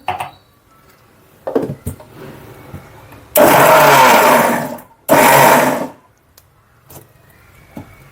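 A mixer grinder whirs through cooked arai keerai spinach greens with salt in two loud, close bursts of about two seconds each, separated by a short pause, with light clicks and handling noises around them.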